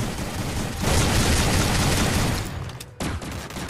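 Shotgun fire in the video game Free Fire: loud, dense bursts of overlapping blasts for nearly three seconds, a sudden brief cutoff, then more firing resumes.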